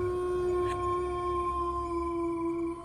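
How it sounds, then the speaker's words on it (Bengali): Jackals howl from far away across a deserted village path on a cold winter night, a drawn-out, steady wail that carries for the whole stretch without any talking. "আর দূর থেকে শিয়ালের ডাক ভেসে আসছে।"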